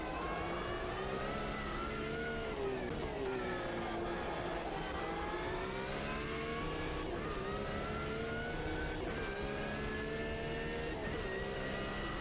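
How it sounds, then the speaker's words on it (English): A racing car engine in the video game Automobilista 2 drones and revs continuously, pitch rising and falling through gear changes, loud and steady throughout. "The car's not got very good sound."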